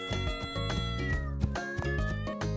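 A cartoon cat meows in a quick run of bright, tonal calls, close and clear with short pauses between them.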